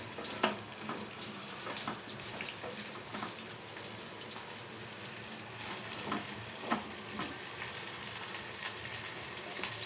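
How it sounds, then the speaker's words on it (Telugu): Five or six chopped green chilies frying in hot oil, a continuous close sizzle with scattered spatters and occasional stirring scrapes throughout, with no one speaking. "ఇలా కట్ చేసుకొని ఆయిల్లో బాగా మగ్గించుకోవాలి."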